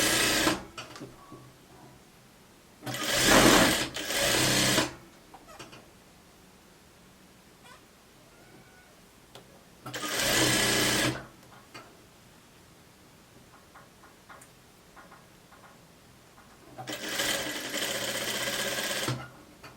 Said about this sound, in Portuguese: Aqui pode vir costurando, costurando.